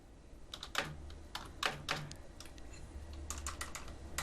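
Keys on a computer keyboard clack as a file name is typed, a quiet, close series of light taps in short irregular bursts with brief pauses, no voices.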